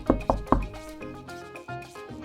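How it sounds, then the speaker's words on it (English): Three loud knocks on a door land in quick succession at the start, followed by a sustained musical background with no further knocking. "Suddenly, she heard a loud knock on the door."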